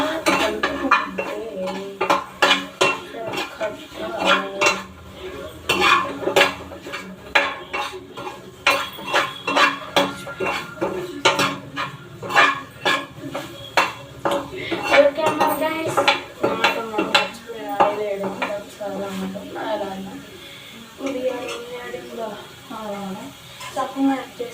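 A spoon scrapes and clinks repeatedly against a pan as curry is stirred after coriander powder goes in, making an irregular run of close metallic taps under intermittent talking.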